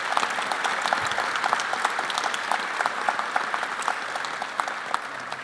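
Sustained applause from an audience at an arts awards ceremony, steady dense clapping throughout, with no speech over it.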